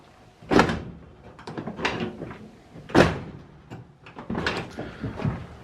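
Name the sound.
Dodge D150 truck door closing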